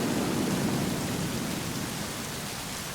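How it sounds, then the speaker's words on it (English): Steady heavy rain with a deep rumble of thunder underneath, a dense continuous wash of sound with no voices. "We got rain going and rain sounds and thunder sounds"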